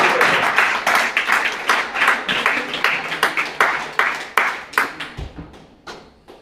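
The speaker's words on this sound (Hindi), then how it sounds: "तालियां बजा दो भाई।" Audience applauding a poet at a mushaira recital, brisk rhythmic clapping that starts full and gradually thins and fades over several seconds, with no voices.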